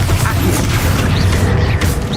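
A Bombarda blasting spell explodes during a Hogwarts Legacy fight, heard as a loud, dense burst of booming and crashing debris amid continuous game noise.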